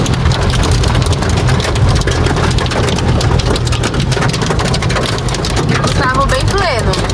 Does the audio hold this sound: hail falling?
yes